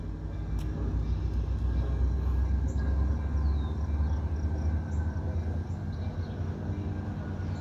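A local double-decker diesel train pulls away from Prospect Heights station, giving a steady low engine rumble and rolling wheel noise that holds at moderate distance, with faint higher squeals over the drone.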